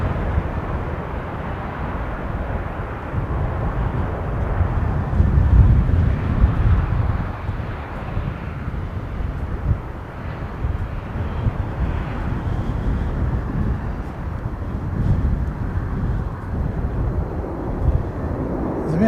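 A Dash 8 airliner lands while being watched from near Christchurch airport, heard as a broad, steady engine and propeller roar mixed with rumbling wind buffeting on the microphone, sustained throughout.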